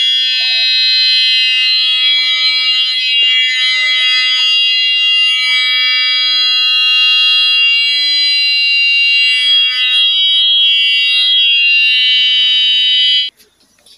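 An anti-theft security alarm set up to guard cattle sounds a loud, piercing electronic tone. It rings steadily and close for about thirteen seconds, then cuts off abruptly.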